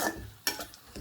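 Prawn curry stirred in a pan, a brief close burst of sizzling with a single scraping stroke of the spoon in the middle, no voices.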